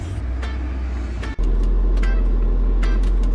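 Mercedes GLC 43 with a stage 2 plus CPC tune, heard close as the engine cranks and catches, then settles into a loud, steady deep idle and drone as it prepares to move off.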